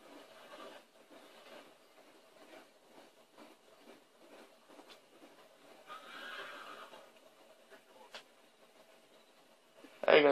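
A horse in the Red Dead Redemption video game whinnies and snorts amid soft rhythmic hoof and rustling sounds, fairly quiet, ending in a sudden loud burst.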